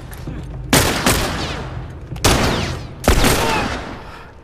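Gunfire in The Last of Us video game: three loud, sharp shots at irregular intervals, each followed by a long echoing decay, with no talk over them.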